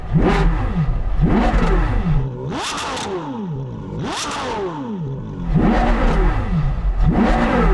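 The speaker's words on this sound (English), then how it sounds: "Oh, look at the way that revs." A high-revving V10 sports car engine blips repeatedly, sharp rising-and-falling revs in quick succession, loud and close with a raspy exhaust note.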